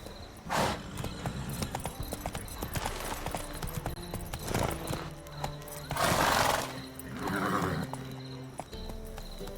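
Roach, a horse in The Witcher 3, gallops with rapid clip-clop hoofbeats, snorting and whinnying between strides, at a moderate level against a faint game background.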